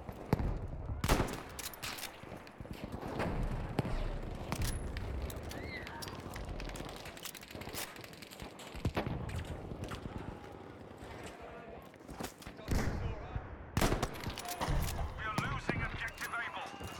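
Gunfire in the shooter game Battlefield V, set against a tank, comes as bursts and single cracks scattered through a noisy battle mix. Voices talk over it now and then.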